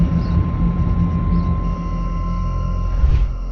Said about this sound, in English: hidden behind the drone of the data centers